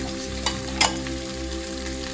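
Red onions frying in a pan for a Sri Lankan devilled chicken dish, a constant close sizzle with a couple of brief louder crackles as they hit the hot oil.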